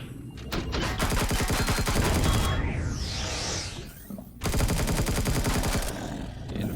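Rapid automatic gunfire in the sci-fi survival game Empyrion Galactic Survival, loud dense bursts of shots with a brief pause and a sweeping mechanical whoosh in the middle, then another fast volley, close and continuous.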